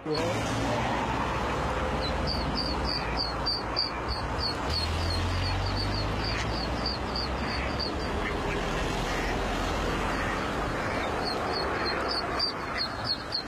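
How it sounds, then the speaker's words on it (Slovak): Ducks quack in a repeated series of short calls over the steady roar of heavy traffic on a busy two-lane road, the calls clustering in bursts near the start and end. "Kačacia rodina prešla z Hrona cez 2 dvojprúdovky plné aut."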